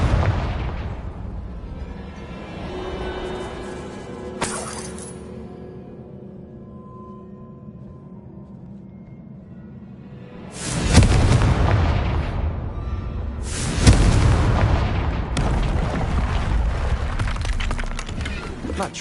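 Confringo fire-spell blasts in the Hogwarts Legacy video game boom out loudly, a burst near five seconds, then heavy rumbling explosions from about eleven seconds on, with a sustained roar and crackle.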